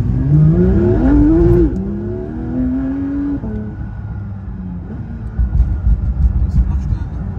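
A car's engine rises in pitch as it accelerates, then settles into a steadier drone and lower rumble while the car keeps driving, with voices talking over it.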